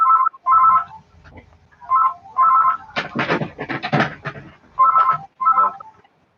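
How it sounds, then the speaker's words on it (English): A mobile phone ringtone goes off indoors during a talk, playing a repeated pattern of short paired electronic tones. A louder, noisier stretch briefly breaks in midway before the ringing resumes. "Someone's phone's ringing."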